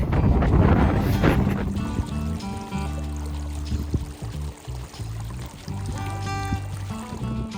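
Gusty wind on the Pacific Crest Trail buffeting the microphone, strongest at the start, with a low engine-like drone running underneath.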